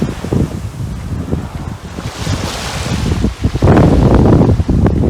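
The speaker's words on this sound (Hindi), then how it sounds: "ये आप देख ही पा रहे होंगे, समुद्र है, अनंत महासागर" Ocean surf and gusting wind on the Neil Island shore in the Andaman Islands, a loud continuous roar with crashing waves swelling toward the end and heavy wind buffeting the microphone.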